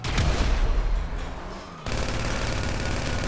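Gunfire in Grand Theft Auto V, a loud burst of rapid shots at first, a brief lull, then a sudden return to dense, sustained firing and rumble.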